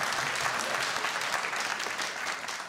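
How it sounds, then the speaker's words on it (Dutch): An evening theater audience gives a dense, steady round of applause for a few seconds, full and close, with no talking. "Applaus!"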